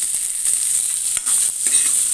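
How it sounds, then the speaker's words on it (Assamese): Peas frying in a pan, a steady bright sizzle with a few soft stirring scrapes and clicks, close and fairly quiet, no talking. "মটৰ ফ্ৰাই কৰি খাওঁ"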